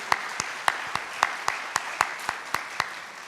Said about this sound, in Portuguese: Palmas para o Litro.